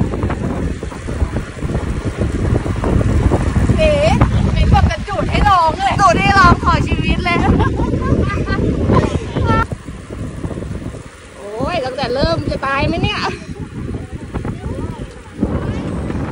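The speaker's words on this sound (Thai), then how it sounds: "ขอบอกเลยว่าวันนี้ลมแรงมากแรงแบบทั้งรอบเลยทุกคนแรงแบบผิดปกติอ่ะ" Strong, unusually gusty wind roars across the microphone during a road bicycle ride, a loud continuous low rumble throughout with a brief lull near the end, while a voice talks over it.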